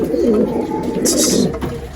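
Teddy pigeons in a cage coo close by, with soft repeated throaty rolling notes, a short brighter burst in the middle.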